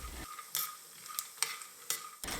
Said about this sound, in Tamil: இப்போது ஸ்டவ்வை உடனே ஆஃப் பண்ணிவிட்டு அந்த சூடு இருக்கும்போதே அதில் ஒரு 1/4 டீஸ்பூன் அளவுக்கு சீரகம் சேர்த்துக்கலாம்.